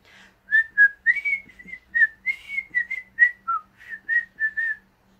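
A person whistles the Andy Griffith theme alone, a close, clear run of short melodic phrases with brief gaps between notes.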